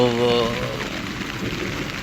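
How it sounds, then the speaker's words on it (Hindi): Heavy rain falls outdoors about 60 kilometres from Karachi, a dense steady patter and wash that carries on evenly, with a brief tonal sound at the start. "अच्छी बारिश हो रही है, मज़ा आ रहा है।"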